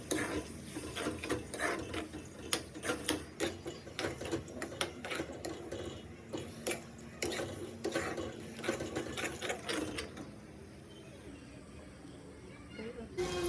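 Four eggs being beaten for egg bhurji make a fast, steady clicking and tapping that runs for several seconds before easing off, with a voice speaking over it.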